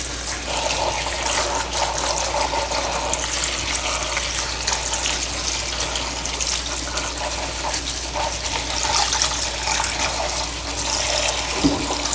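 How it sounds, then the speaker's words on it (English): Tap water runs steadily into a sink, a continuous broadband splashing rush at close range with no voices. "Now we're gonna run our cold water on it"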